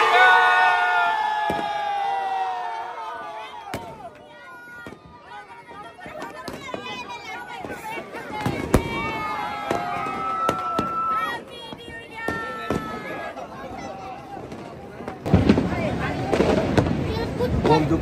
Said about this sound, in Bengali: আকাশের রং চেঞ্জ হচ্ছে, আতশবাজি দিয়ে আকাশ পুরো ভরে যাচ্ছে।